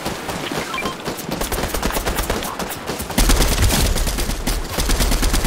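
Gunfire in the video game Fortnite, rapid bursts of automatic shots rattling continuously, growing louder and denser partway through.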